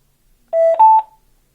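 A cheap AliExpress Bluetooth speaker sounds its connection signal: two quick, loud electronic tones, the second higher than the first, played alone.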